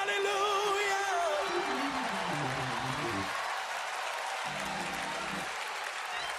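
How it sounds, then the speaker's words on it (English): A church congregation applauds and claps throughout at a steady, moderate level while a voice sings or calls out over the clapping. "clap your hands"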